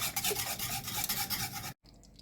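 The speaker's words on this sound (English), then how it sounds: "I will mix and keep mixing until we've got a nice thick mixture" A spoon scrapes and stirs gooseberry curd mixture in a pan with a close, continuous rasping rub that cuts off briefly near the end.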